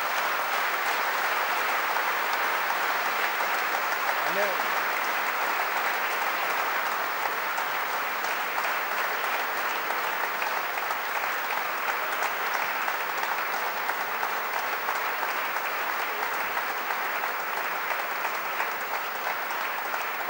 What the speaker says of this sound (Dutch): Geef een applaus aan de Heer.